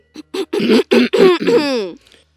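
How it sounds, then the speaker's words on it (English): A person clears their throat with a series of rough, voiced rasps, about six bursts in quick succession, close and loud, ending in a drawn-out groan before quiet. "Clear your throat."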